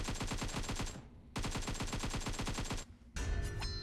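Automatic AK rifle fire in PUBG Mobile's zombie infection mode, loud sustained bursts with rapid even rhythm, two long strings separated by a brief pause, then a noisier blast of in-game action.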